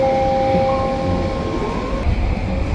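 Rumble of a train passing in the other direction on a metro line near Columbia station, steady rolling noise with a faint tonal whine, no voices.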